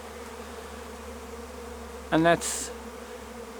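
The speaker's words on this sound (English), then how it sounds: "the bees grouping and getting ready to go inside the hive" A bee swarm settling into a hive makes a steady, droning buzz that holds throughout at a moderate level, with a brief spoken phrase cutting in near the end.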